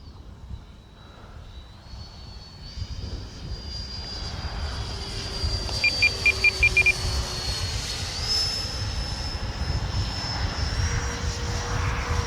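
A Freewing A-6 Intruder radio-controlled model jet flies in windy conditions, its steady, faint, high whine rising and falling in pitch as it passes. A short series of electronic beeps sounds partway through.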